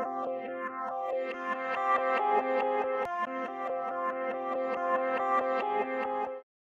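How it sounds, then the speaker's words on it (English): A bright yangqin, a hammered string instrument, plays a continuous pattern with a swirling, sweeping phaser effect, stopping abruptly at the end. "Now we have a cool phaser."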